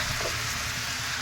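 Seven large new potatoes fry in a pan with onion, turmeric and salt. A steady, close hiss and sizzle continues without a break, and no one speaks.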